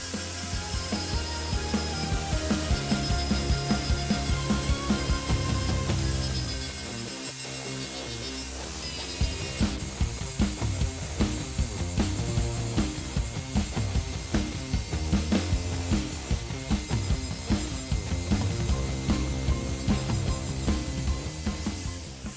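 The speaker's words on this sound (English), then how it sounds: "So let's start grinding off this scale." A flap disc on an angle grinder strips forge scale from a hand-forged steel kitchen knife blade, a loud continuous grinding whine with shifting pitch and brief dips, close and alone.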